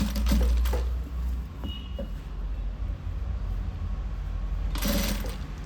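A sewing machine stitching through folded blouse fabric at a tailoring lesson, a soft continuous mechanical whir under low room rumble, with brief louder clatters near the start and again toward the end.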